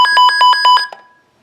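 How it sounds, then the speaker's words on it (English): A loud, shrill weather radio alert siren pulses about seven times in quick succession, then cuts off and fades to silence. "I can play you guys the siren if you want."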